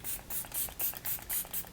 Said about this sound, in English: It's like a natural spray, so I'm just going to shake it.